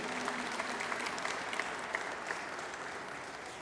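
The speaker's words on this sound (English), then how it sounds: "Round of applause, yes" An audience at a San Francisco police award ceremony applauds for the mayor and chief, giving soft, steady clapping that sounds somewhat distant and holds an even level throughout.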